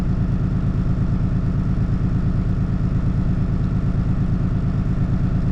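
Steady, loud engine of a 2017 Jayco Seneca RV running at a constant high pitch, revving higher than it should, with a rhythmic low throb and faint clatter, continuous and close, no voices.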